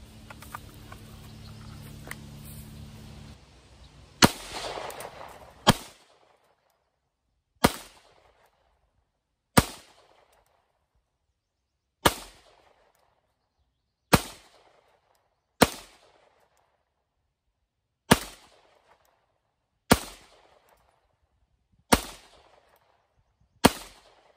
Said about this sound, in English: So let's shoot 9mm again.